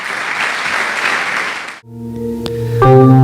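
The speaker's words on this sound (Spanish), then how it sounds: "Denle un aplauso fuerte al Señor." Church congregation breaks into loud, dense applause that cuts off abruptly after about two seconds, followed by sustained organ or keyboard tones that swell louder.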